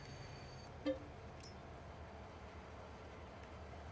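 Freight train loaded with seed cars in Farming Simulator 22 rolls along with a constant low rumble, broken by one short horn-like toot near the start.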